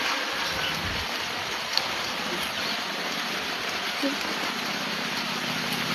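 Rain pours steadily outdoors, a constant even wash of noise with faint scattered taps and no clear break from start to finish.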